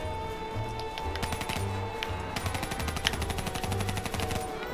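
Rapid bursts of Kuda submachine gun fire in Call of Duty Black Ops 3 zombies mode, fast clicking rattles in short strings over a low game background.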